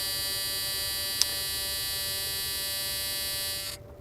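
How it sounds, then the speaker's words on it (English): Warning buzzer in a 1983 Plymouth: a steady, faint electric buzz holding for several seconds with one small click partway, then cutting off near the end. "there's that wonderful Chrysler buzzer"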